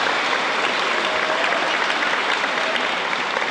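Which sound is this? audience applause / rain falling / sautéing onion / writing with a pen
audience applause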